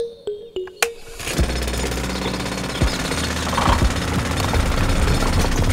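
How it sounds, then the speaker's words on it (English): A few sharp clanks ring out, then a loud, steady jackhammer-like drilling roar from a drilling machine breaking rock takes over and continues, close and harsh. "First, Hulk controls the drilling machine"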